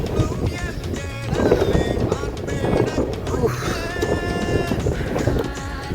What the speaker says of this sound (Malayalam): ഗൈസ് നല്ല കാറ്റ്